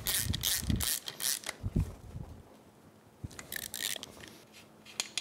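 A ratchet tightens 12mm-head plugs on a Yamaha YXZ1000R side-by-side during a gear reduction job. Quick, close bursts of crisp clicking come in separate runs with quiet gaps between them.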